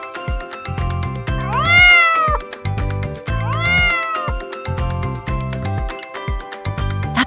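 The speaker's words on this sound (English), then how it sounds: "That's right, a cat." A cat gives two loud, drawn-out meows, each rising then falling, set over a steady rhythmic beat that runs through the whole stretch.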